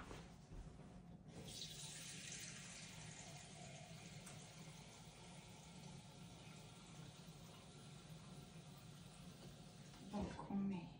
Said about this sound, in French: Donc, on met 2 litres d'eau.